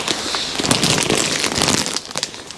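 Aerogel sleeping bag being squeezed and compressed by hand, giving close, continuous crinkling and rustling of crackly fabric.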